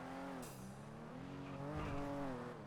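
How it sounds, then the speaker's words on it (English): A car in GTA V makes a U-turn during a street race, its engine note rising and falling with tire squeal. It is faint and distant throughout. "That car just turned around."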